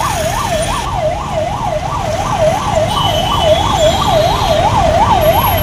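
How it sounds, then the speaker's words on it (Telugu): An emergency siren wails during a police mock drill, a loud rising-and-falling electronic warble cycling rapidly and evenly over steady traffic-like background noise. "ఎమర్జెన్సీ సైరన్ రాగానే ఎలా పోతామో అసలు మన స్టాఫ్ చూపిస్తారు"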